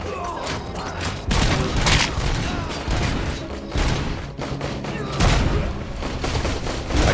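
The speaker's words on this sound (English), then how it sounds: "I shot the grenade out of the air." Rapid gunfire from the shooter video game RoboCop rattles continuously, dense bursts and heavy thumps overlapping loudly with mechanical clanks throughout.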